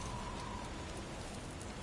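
A steady rainstorm in God of War Ragnarok hisses evenly across the whole moment, a dense wash of falling rain with no voices over it.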